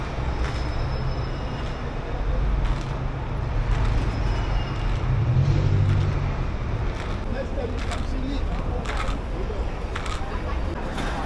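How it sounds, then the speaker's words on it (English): Heavy car traffic on a New York City street makes a constant, dense roar of engines and tires, with a voice talking over it. "the traffic is insane"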